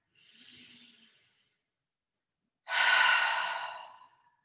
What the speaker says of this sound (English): taking 2 or 3 more big deep breaths in and out